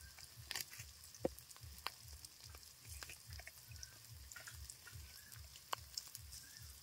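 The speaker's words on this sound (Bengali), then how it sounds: "একটু লবণ দিয়ে দিলাম, পেঁয়াজটা তাড়াতাড়ি ভাজা হয়ে যাবে।" Onions fry in a pan with salt, garlic and green chillies. A faint, close sizzle carries scattered small pops and clicks.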